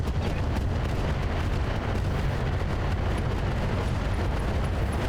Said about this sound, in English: Give me some good booms.